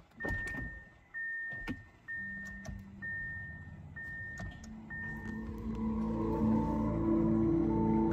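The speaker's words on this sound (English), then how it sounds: "I can just roll out of here in EV mode" Lamborghini Revuelto pulling away at night in EV mode, with an electric whine and faint tones rising over a growing low rumble as it rolls off, plus a few sharp clicks early on.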